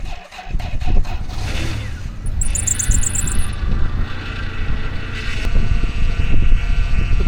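An iced-over truck engine in the Arctic cold cranks and catches, running loud and rough at close range with a continuous low rumble and wind noise.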